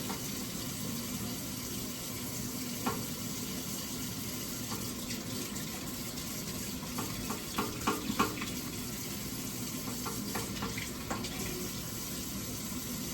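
A kitchen tap runs steadily as fresh turmeric root is washed and its skin rubbed off, a constant close rush of water with faint clicks and handling knocks, no talking.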